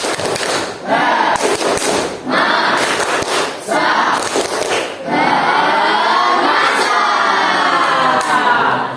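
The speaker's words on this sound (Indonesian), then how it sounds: "Tepuk semangat." Schoolchildren in a classroom perform a rhythmic Indonesian spirit clap-and-chant cheer, loud bursts of clapping and shouted voices in several surging phrases separated by short pauses.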